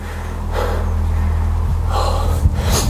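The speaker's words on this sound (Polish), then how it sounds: "Musimy wyrównać oddech. Wiem, że sapiemy jak bobry" Close, loud, heavy panting from out-of-breath people climbing around the wartime ruins of Sazan island in Albania: a few deep breaths in an uneven rhythm over a low background drone.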